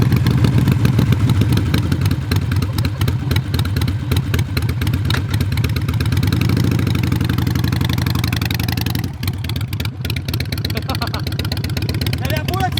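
Harley-Davidson motorcycle engine running close by with a loud, deep, rhythmic rumble throughout, with people talking over it.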